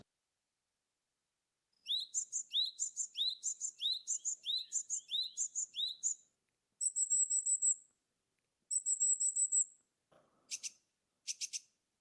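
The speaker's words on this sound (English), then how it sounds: "That first sound you heard is the sound a tit bird makes in order to attract a mate." Songbird calls from a tit, a mating call: several bursts of rapid, bright repeated chirps, then two clearer trilled phrases and a few short sharp notes, heard close and alone against a silent background.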